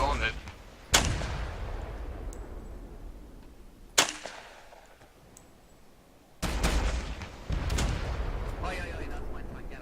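Tank cannon shots in a video game, several loud booming blasts with long decaying rumble, one at about one second, another near four seconds and a heavier burst later, with background engine noise between.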